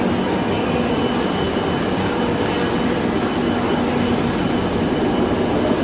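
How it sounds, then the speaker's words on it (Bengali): Metro train rumbling through New Garia station in Kolkata, a steady loud roar filling the whole stretch with no break in intensity. "এই একটা মেট্রো যাচ্ছে"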